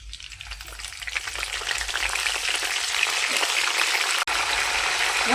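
Mustard seeds, cumin and curry leaves hitting hot oil, giving a loud, close, continuous crackling sizzle that builds steadily, with a single brief dropout near the end.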